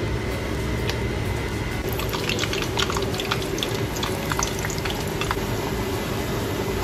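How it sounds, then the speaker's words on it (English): Pork empanadas deep frying in hot cooking oil, a steady dense sizzle and bubbling crackle running throughout at close range, with scattered sharper pops over the continuous hiss. "deep fry natin to. Mainit ng mantika. Let's fry."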